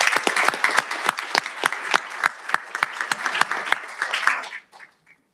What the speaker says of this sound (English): A round of applause for Miss Jocelyn Pop Cooper